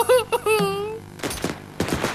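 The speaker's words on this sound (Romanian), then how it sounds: "Se trage!" Cartoon gunfire from the animated series Jackie Chan Adventures in a Romanian dub: two rapid, crackling bursts of shots, close and loud, following a short vocal exclamation.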